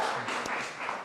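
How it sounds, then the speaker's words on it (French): An audience at a school reading club event claps briefly, a short burst of applause of moderate loudness with no talking. "j'aimerais qu'on applaudisse pour lui et pour vous"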